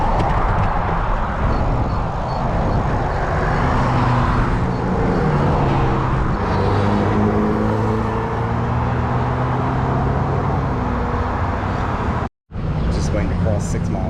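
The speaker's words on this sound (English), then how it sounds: "This is a busy road." Steady roar of cars on a busy multi-lane road in Fort Myers, near and continuous with vehicles passing by, and a brief cutout near the end.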